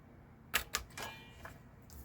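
Scissors snipping a small notch into paper for a journal pocket, two sharp close clicks followed by a softer crinkle and a faint snip.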